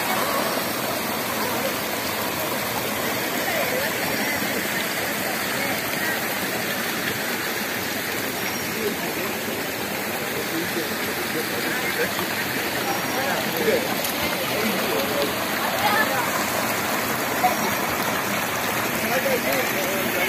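A forest stream in Wayanad rushes steadily, a broad continuous hiss of flowing water that stays even throughout, with no clear voices.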